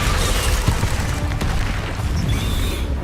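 Spell impact from the Descendo charm in the video game Hogwarts Legacy: a loud, dense rumbling boom with crackling bursts that sustains throughout, with a brief sharp hit in the middle.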